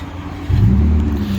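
An Audi A5 3.2 with its rear two mufflers deleted and replaced by 2.5-inch pipe with chrome tips idles with a low rumble, then revs up into a louder, deeper growl close by.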